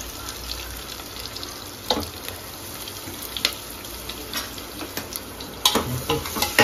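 Onions frying in a pan for biryani give a close, steady sizzling hiss scattered with soft crackles and pops, with no voices.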